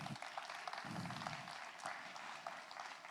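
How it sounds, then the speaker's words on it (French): An audience applauds start-up finalists at a pitch contest, a steady, fairly distant wash of clapping that holds evenly for the whole stretch. "On les applaudit."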